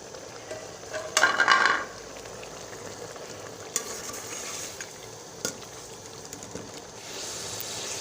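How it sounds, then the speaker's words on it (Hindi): Cumin, ground dried coriander and chillies frying in oil in a pot for mutton yakhni pulao, a steady soft sizzle with a brief louder hiss burst early on and a few light clinks of a spoon stirring. "कितना अच्छे से ये ना फ्राई हो रहा है"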